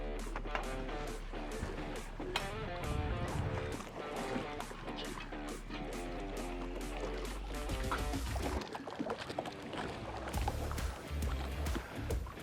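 A small boat moving through shallow water near a boat trailer, with a continuous low motor rumble and water sloshing and trickling against the hull, steady and close, with no voices.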